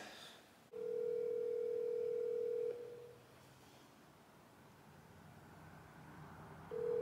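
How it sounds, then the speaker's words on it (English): A telephone ringback tone plays while a call waits to be answered: one steady electronic ring of about two seconds, a long quiet gap with faint room noise, then the next ring beginning. "I'm gonna call him right now."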